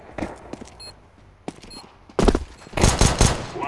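Gunfire in the video game Counter Strike 2, aimed at a planted bomb: scattered sharp shots early, then louder rapid bursts in the second half.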